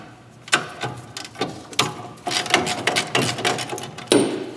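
A ratchet and socket work loose a brake caliper bracket bolt on a car with creaky brakes, giving close, loud, repeated metallic clicks and clanks in uneven bursts.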